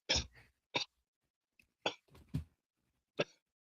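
Five separate coughs, loud and close, spaced irregularly with silent gaps between them, no talking.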